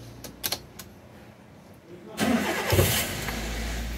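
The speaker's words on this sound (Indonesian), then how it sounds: "Oke, sekarang akan kita coba untuk di starter." A car engine is cranked with the starter and then fires up on a vehicle whose check-engine light stays lit. A few short clicks come first, then a loud whirring crank catches into a steady running engine close by.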